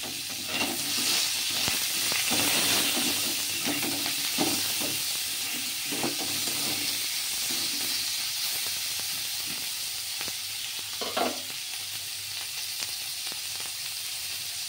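Vegetables frying in a pan for a navratan paneer dish, a continuous close hissing sizzle with occasional soft stirring knocks, steady throughout and with no one talking.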